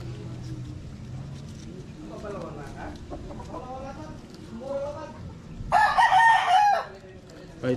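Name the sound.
rooster crowing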